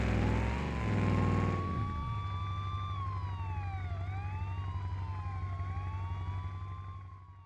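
Police siren wailing in BeamNG as cops chase a car, a loud sweeping tone rising and falling repeatedly over engine rumble after an initial burst of road noise, fading slightly at the end.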